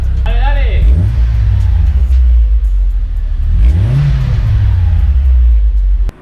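Opel Astra with a modified homologated exhaust revving hard twice, each rise and fall loud and close, with a deep rumbling idle between the revs before cutting off abruptly.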